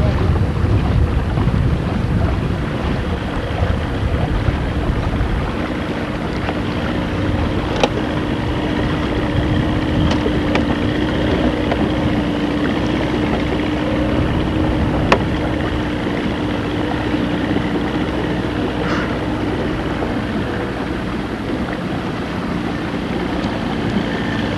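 A motorboat runs steadily up a river, a continuous loud engine drone mixed with rushing wind buffeting the microphone, with occasional knocks and hull thumps and no voices.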